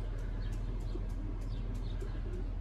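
A racing pigeon returns to the loft after a 290 km race from Morlincourt, France, with soft repeated cooing and faint chirps over a steady low hum in a garage.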